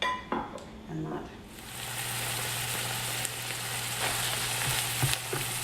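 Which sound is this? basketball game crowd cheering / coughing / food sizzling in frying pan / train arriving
food sizzling in frying pan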